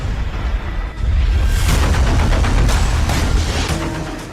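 Deep rumbling booms of missiles intercepted by air defense overhead in Israel, rolling and overlapping in a sustained low roar with scattered sharper cracks.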